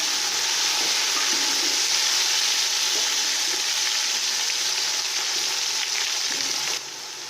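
Tomatoes and green chilies frying for potato pulao, a loud, steady, close sizzle of oil with faint stirring, dropping slightly in level just before the end.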